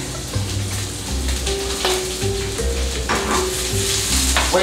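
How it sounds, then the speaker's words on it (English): Chorizo, mushrooms, green onions and peppers fry in a pan with a continuous close sizzle, broken by stirring scrapes and soft clatters of utensils against the cookware. "I'm gonna chop up the mushrooms, green onions, peppers, and frying that bit"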